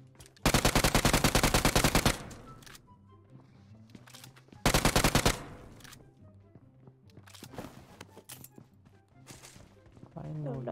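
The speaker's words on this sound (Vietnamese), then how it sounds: "Gatling gun." Gatling gun in the PUBG Mobile shooter game, firing two long, loud bursts of rapid automatic shots close up with a pause between, followed by scattered quieter game sounds while people talk.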